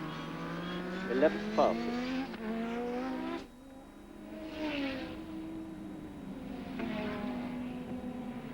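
Alain Prost's McLaren Formula 1 car during practice at the 1986 Hungarian Grand Prix, its engine note rising and falling as it passes in waves, heard under steady commentary talk.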